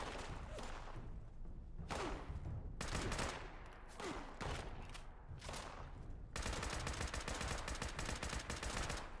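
Gunfire in the Fallout 76 video game: bursts of rapid shots and single loud cracks in uneven clusters, ending in a sustained stretch of fast automatic fire, with no voices.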